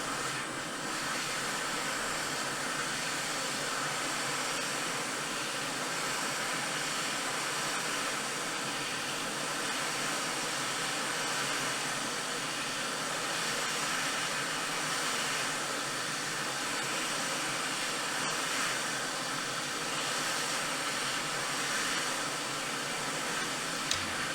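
A hot air tool blows a steady, loud, unbroken hiss while heating the charging port of a Nintendo Switch from above, with no talking over the even rushing air.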